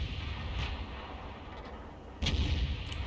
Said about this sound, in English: we get clobbered again by that 105mm gun